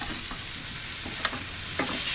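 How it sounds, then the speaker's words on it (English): Butter and smashed garlic cloves sizzle in a hot pan alongside searing steak, a loud, close, continuous hiss with a few sharper spits and crackles. "take some butter, get it into the pan, a couple cloves of garlic, smash it, garlic into the pan."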